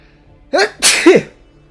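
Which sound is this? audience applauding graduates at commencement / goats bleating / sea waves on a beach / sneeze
sneeze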